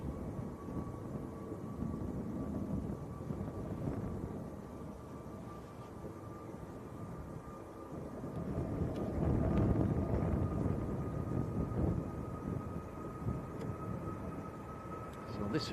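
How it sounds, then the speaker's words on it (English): A Ryanair Boeing 737 Max departing Manchester Airport for Parma produces a fairly faint, distant jet rumble that builds midway and then eases, with speech and wind over it. "So this Ryanair outbound to Parma. This one's a Max."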